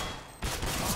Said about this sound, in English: I clicked! I fucking shot!